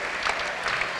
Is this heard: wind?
no